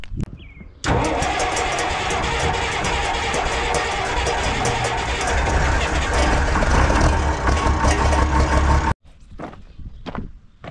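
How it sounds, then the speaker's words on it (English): A tractor engine turns over and runs loud and close for several seconds at a steady, rough idle, then cuts off abruptly and leaves quiet rustling behind. "I'm gonna move this tractor so I can get to that one."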